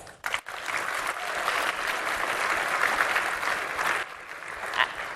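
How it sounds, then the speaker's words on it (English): A large audience at the opening ceremony of the ISWA World Congress & WASTECON 2017 claps in dense, sustained applause, loud and even for about five seconds with a brief dip near the start. "And last but not least, if you're from anywhere else in the world, please give yourself a round of applause."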